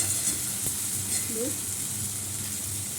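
Boiled meat and potatoes dropped into a pan with browned fried onions, a soft steady sizzle with a brief clink and faint movement, fairly quiet and close.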